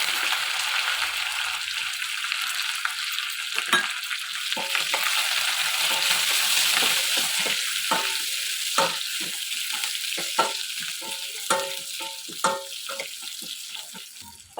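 Curry leaves, garlic cloves, fenugreek seeds and dried red chillies sizzle loudly in hot oil as a tempering for cucumber dal. The steady frying hiss is dotted with crackling pops throughout.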